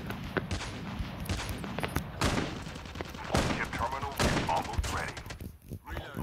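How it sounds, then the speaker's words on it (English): Rapid gunfire in a first-person shooter video game, bursts of automatic shots and loud cracks coming in uneven volleys across the clip, with people talking quietly underneath. "Nice shooting."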